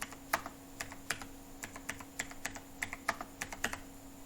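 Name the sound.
typing Aadhaar number on a computer keyboard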